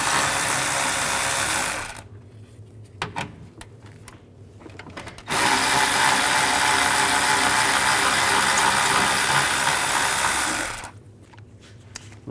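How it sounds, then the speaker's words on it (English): Ratchet with an 8mm socket loosening the radiator screws on a Ford E-250, heard as two long runs of steady close clicking separated by quieter pauses with a few scattered knocks. "Use an 8mm socket."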